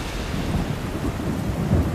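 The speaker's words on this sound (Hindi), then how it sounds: "रुक रुक कर बारिश भी हो रही थी।" Steady rain falling with a low, rolling rumble of thunder underneath, a continuous wash of sound at an outdoor excavation site with no voices.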